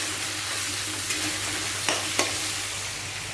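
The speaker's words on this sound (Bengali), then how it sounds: "তারপরে পেঁয়াজটা দিয়ে দিলাম। পেঁয়াজটা লাল করে নিই।" Onions fry in hot oil in a pan for a prawn and spinach dish, a steady close hiss of sizzling with a few soft stirring scrapes.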